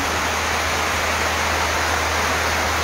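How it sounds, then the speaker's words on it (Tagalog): Dense, steady roar of heavy rain pouring down in Tacloban during a storm signal, a constant hiss with no pauses or voices. "Buhos na ulan akin."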